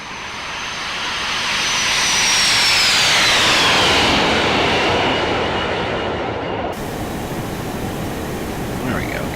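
A FlyJSim Boeing 737-200 jet in X-Plane 11 makes a loud flyby, its roar building to a peak, a whistling engine tone sliding down in pitch as it passes, then easing off into a steady rumble.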